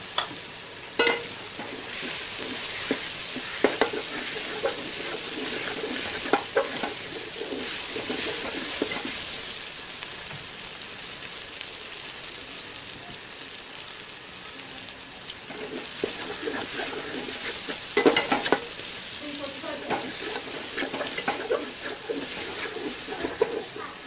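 Finely chopped cabbage fries in a pan for a chicken junglee pulao, a steady sizzle broken by repeated scraping strokes of a spoon stirring, close and without talk.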